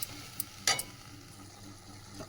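Fish curry gravy simmers in a pan just after water is added, giving a faint steady bubbling hiss broken by a few sharp scraping clinks of a utensil near the start.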